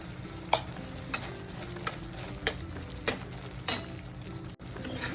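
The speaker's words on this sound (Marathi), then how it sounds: "आता एक चमचा गोडा मसाला टाकायचा आहे" Goda masala spice mix toasting in a pan for spicy Solapuri usal, a steady low sizzle broken by regular stirring scrapes roughly every half second, close and clear.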